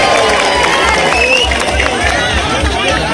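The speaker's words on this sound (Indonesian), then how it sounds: "Tepuk tangan buat semua yang hadir di sini." A large, loud crowd at an outdoor campaign rally in Purwakarta applauds and cheers, with dense clapping and crowd noise mixed with voices and shouting throughout.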